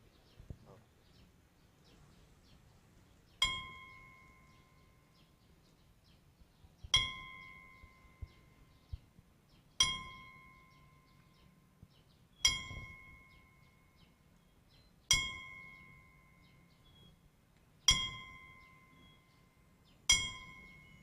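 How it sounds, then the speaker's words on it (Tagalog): A bell rings at a Naga City ceremony for the 80th National Day of Valor, tolling seven times at steady intervals of about three seconds, each strike a bright clang that slowly fades, with faint voices between strikes. "Dito na bell."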